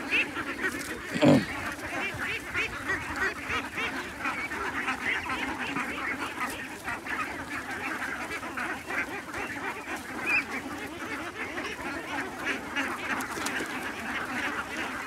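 Many ducks quack continuously in a noisy farm flock struck by a disease, overlapping calls filling the air at close range, with one loud thump early on.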